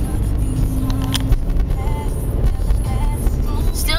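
Car interior during a drive with the mother at the wheel, a steady low engine and road rumble running throughout with faint higher tones drifting in and out.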